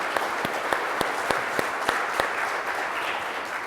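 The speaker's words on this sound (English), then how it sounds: "Let's give them a good applause for a nice session." Audience applause fills the room at the close of a web accessibility conference session, a steady dense clatter of many hands with a few sharper claps standing out.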